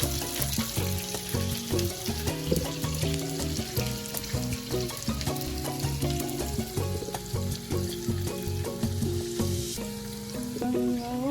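Shallots and garlic sauté in a pan for a Malabar curry, producing a continuous crackling sizzle with occasional stirring scrapes, heard up close under background music.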